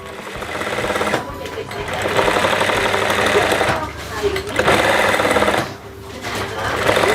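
A sewing machine runs in steady, loud bursts while stitching the collar fabric of a kebaya, stopping briefly twice between long runs.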